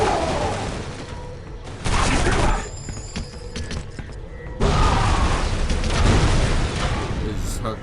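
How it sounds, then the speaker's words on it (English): Grenade explosions in the shooter game Area 51: heavy, sustained booming blasts roll in two long loud waves with a short gap between, close and rumbling, with a voice talking over them. "There's just fucking grenades at me."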